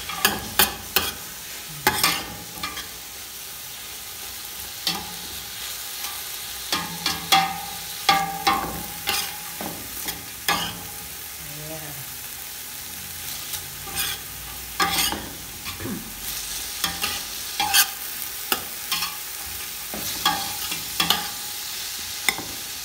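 Onions sauté in a pan for fish sinigang, with a soft continuous sizzle under repeated close scraping and clattering strokes of a utensil stirring against the pan, no talking.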